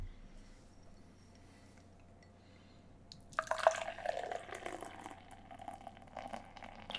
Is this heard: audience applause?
no